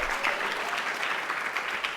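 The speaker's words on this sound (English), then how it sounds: "So if we could just give them a round of applause." A room of people at a Board of Education meeting gives a round of applause for a school team after its season, with steady, even clapping throughout and no talk over it.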